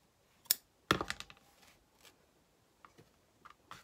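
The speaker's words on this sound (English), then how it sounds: "Stick your scissors right behind the fur on just the backing only" Scissors snip through the backing of faux fur fabric, leaving scattered sharp clicks and short crunchy cuts, one fairly loud and the rest faint and close, separated by quiet pauses, with no talking.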